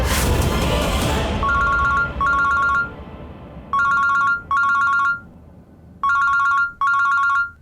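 A phone ringtone chirps in repeated electronic bursts, pairs of bright trilling rings separated by short pauses, loud and close after a noisy opening moment.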